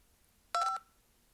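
A single short telephone keypad DTMF dialing tone, a clear dual-pitched beep lasting about a quarter second, sharp against a quiet background with no talk.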